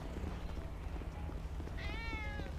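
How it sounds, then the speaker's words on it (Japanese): In the game GTA5, a cat gives a single drawn-out meow with wavering pitch, fairly faint under a constant low rumble of background noise. "え、泣いてる泣いてる、にゃーって言ってる。"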